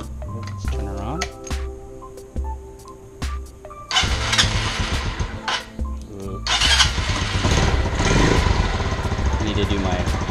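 A Lifan KP Mini 150 motorcycle, checked after a valve adjustment at 1000 miles, cranks and fires up, then revs and idles loudly close by, with scattered clicks and clanks beforehand and someone talking over it.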